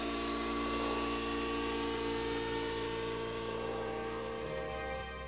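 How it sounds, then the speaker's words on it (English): A drone flies over anaconda ponds in Guyana, its motors giving a continuous, steady whine and hum that stays loud and even throughout, with no voices. "The drone has passed the test and continues on towards each pond."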